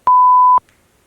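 A single clean electronic beep from a phone, loud and steady for about half a second before cutting off into near silence.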